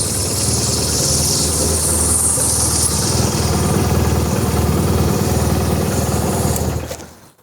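A BMW R1200RT motorcycle engine running steady and close, a constant rumbling thrum with a faint high whine on top, no speech, fading out at the end.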